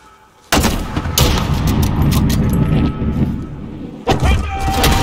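Two heavy cannon blasts boom out in a Call of Duty: Modern Warfare (2019) battle, the first followed by a long rumbling roar, the second bursting in near the end.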